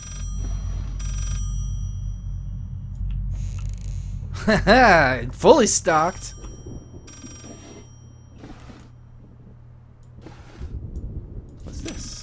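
A telephone rings in the horror video game Layers of Fear, with a few bright, warbling ring bursts in the middle over a low steady hum, amid speech.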